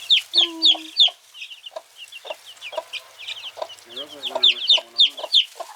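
Loud, repeated high-pitched chick peeps in quick bursts, with softer clucking from a hen mixed in, close by.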